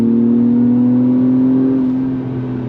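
An Acura TLX Type S engine pulls hard in manual paddle-shift mode, a smooth rising drone that climbs steadily, then dips slightly near the end as if at a shift, heard loud from inside the cabin.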